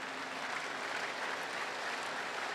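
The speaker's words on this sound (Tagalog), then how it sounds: "Nakasan niyo yung palakpak niyo?" A church congregation at a live worship service applauds, a faint, distant wash of many hands clapping that stays even and continuous for a few seconds.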